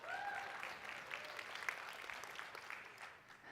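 Audience applause at a conference, a crowd clapping steadily at a modest, slightly distant level before tapering off near the end, with faint voices mixed in.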